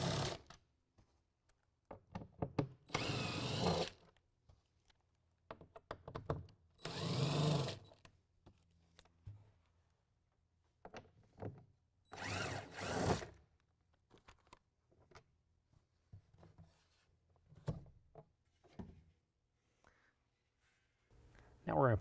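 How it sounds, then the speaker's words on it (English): A power driver with a T30 Torx bit takes bolts out of a 2016 Toyota Tacoma truck bed in several short whirring bursts separated by pauses, with faint talk between them. "We're going to use a T30 Torx bit to take out the bolts."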